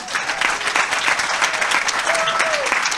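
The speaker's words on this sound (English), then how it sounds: "how about a round of applause?" A sustained round of applause from a live audience at an investor summit held aboard a cruise ship, dense clapping filling the space steadily throughout, with faint voices and a brief whistle mixed in.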